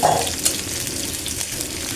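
Chopped onions fry in hot oil in a wok, giving a steady, close sizzle with no talking.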